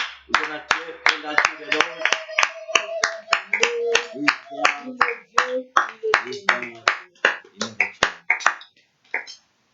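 A church congregation claps in steady rhythmic unison during worship, loud and close, with sharp regular hand claps running over singing voices before fading out near the end.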